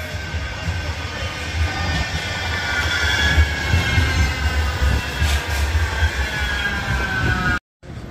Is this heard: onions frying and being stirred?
no